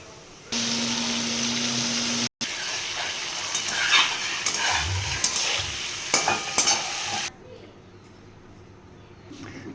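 Ginger paste, chili paste and cumin powder sautéing in oil in a pan, a loud bright sizzle that surges, then gets stirred with scraping and clattering utensil sounds before dropping to a quieter background near the end.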